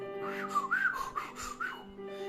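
Whistle of a passing ironclad war vessel in a narrated story, a sustained wavering tone that rises and falls for about two seconds.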